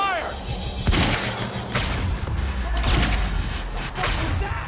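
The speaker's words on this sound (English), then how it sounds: "Open fire!" Gunfire in the video game Quantum Break, dense crackling bursts and heavy impacts over a loud, busy mix with shouting voices, continuing for several seconds.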